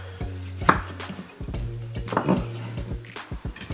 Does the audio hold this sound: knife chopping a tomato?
yes